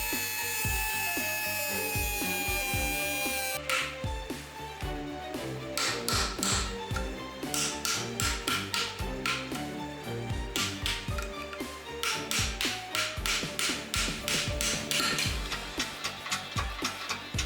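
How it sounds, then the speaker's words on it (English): On a Honda Type R wheel hub flange, a cut is made into the leftover old bearing race and it is then chiselled off with a rapid series of sharp metallic taps, loud and close, with no talking. "I make a cut in the race of the old bearing still left on the flange and chap it off"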